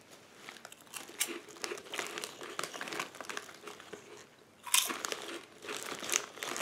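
Bugles cheese corn snacks crunch and crinkle up close, with irregular crisp bites and chewing plus bag rustling, heard alone without talk.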